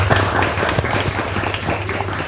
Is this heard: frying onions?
no